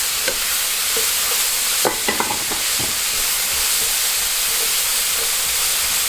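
Greens, capsicum and green beans stir-frying in a hot pan for vegetable noodles, a loud continuous sizzle with a cluster of clattering tossing and scraping sounds partway through, no voices.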